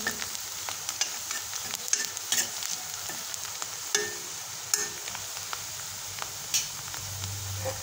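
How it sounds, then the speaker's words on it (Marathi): Chopped onion frying in oil in a pan until golden brown for paneer bhurji, a steady close sizzle with soft crackles and occasional stirring scrapes throughout, no talking. "हे पहा, आपला मस्त कांदा भाजत आहे।"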